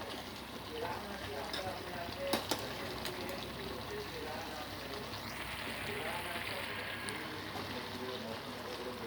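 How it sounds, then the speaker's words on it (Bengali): A potato and onion curry with sugar added simmers in a pan, giving a steady, soft bubbling and crackling throughout with a couple of faint clicks. "চিনিটা দেওয়ার পরে 1 মিনিট মতন ফুটিয়ে নিয়েছি।"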